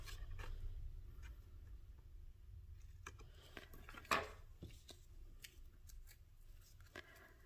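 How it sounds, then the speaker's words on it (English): Scissors snipping along the edge of a paper craft card, quiet close-up cutting with a series of small irregular clicks and crisp snips, one sharper cut standing out midway, over faint room hiss. "with your scissor, follow the line of the card"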